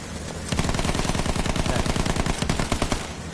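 Rapid automatic gunfire in the Battlefield 1 video game, a dense continuous burst of machine-gun shots that starts abruptly and rattles on loud and close for several seconds.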